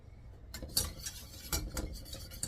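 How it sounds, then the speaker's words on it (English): A whisk clatters against a bowl as a mixture for a cherry jello pie is stirred, the scraping strokes steady and close with a few louder knocks. "We're gonna whisk that all together"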